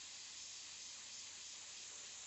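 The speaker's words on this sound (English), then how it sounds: "I'm just going to spray a little bit of this out in this makeshift little thing I have here" An airbrush spraying paint into a small makeshift container, a steady, faint, airy hiss held without pause, no talk.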